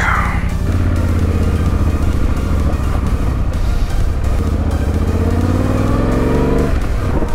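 Motorcycles ride out along the Arizona Backcountry Discovery Route toward the Mogollon Rim, their engines loud, close and continuously revving and accelerating for the whole stretch.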